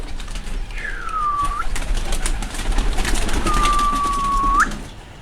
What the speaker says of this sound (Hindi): ये तमाम बेबी पिजन हैं